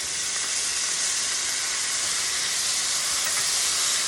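Peppers and artichoke hitting a hot pan for an Italian chicken and sausage bow tie pasta, a loud, steady, close hissing sizzle with no letup and no talk.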